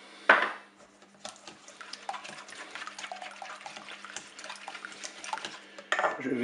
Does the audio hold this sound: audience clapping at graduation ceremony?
no